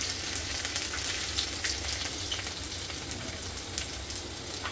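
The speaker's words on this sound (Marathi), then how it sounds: "तेल टाकले, राई घालून घेऊया, सोबत जिरं पण घालूया." Mustard seeds and cumin sizzle in hot oil in a home kitchen, a steady close crackling hiss with scattered pops throughout, no voices.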